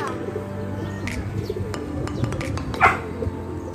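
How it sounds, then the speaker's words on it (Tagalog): Pigeons being let loose, with low cooing and scattered sharp flutters and clicks close by, plus a brief louder burst of wing noise near the end. "So ayan mga kalapatids, pinakawalan na natin sila."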